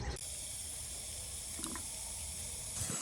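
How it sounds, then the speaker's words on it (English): Outdoors at a garden homestead, water from a hose pours into a bucket as a steady, close hiss that runs almost the whole time before cutting off at the end. "I feel ridiculous putting water from a hose in a bucket right after it rained"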